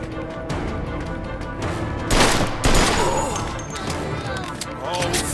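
Bursts of gunfire in the Mafia II video game crackle through a dense in-game mix, with a couple of louder volleys, and voices talk over the shooting.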